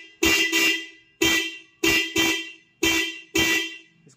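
A dual car horn wired through a relay to a single button sounds in loud, close blasts, about seven honks arriving mostly in quick pairs with short gaps between them.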